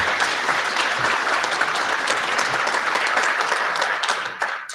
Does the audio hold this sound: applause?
yes